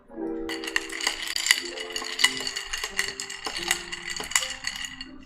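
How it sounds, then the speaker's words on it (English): Ice and a spoon clinking and rattling in a glass while a Negroni cocktail is stirred, with bright repeated chinks over a steady swirl, close and fairly faint, no talking. "And give it a little stir."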